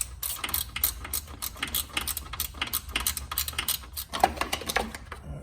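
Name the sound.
wrench loosening bolts on a plastic shield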